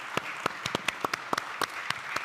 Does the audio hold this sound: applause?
yes